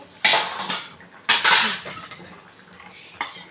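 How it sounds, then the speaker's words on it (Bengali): A metal lid goes onto a pot of Bengali mutton red curry set on low gas, producing a few loud, close clanks and clinks with ringing decay in between. "গ্যাসটাকে সিমে দিয়ে আমরা ঢাকা দিয়ে দিলাম"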